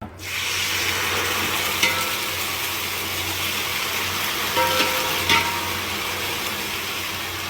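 Meat sizzles loudly in a pot of Bahraini meat saloona as it starts frying, a dense, continuous hiss with a few scraping stirs and clinks, and no talking.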